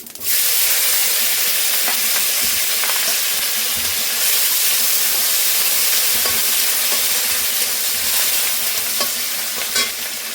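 Cumin, bay leaf, tomato and green chilli hit hot oil already used for frying eggplant, erupting into a loud, continuous sizzle that holds for ten seconds while a spoon scrapes and stirs the pan now and then.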